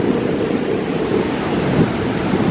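Heavy ocean surf pounds the shore during a tropical storm as strong wind buffets the microphone, a loud, continuous roar that holds steady with no voices.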